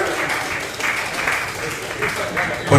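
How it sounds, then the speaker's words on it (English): Audience applause after a bluegrass-style band of pickers plays on stage, a steady round of clapping with some cheering at a moderate level, continuing for a few seconds. "Give them a round of applause."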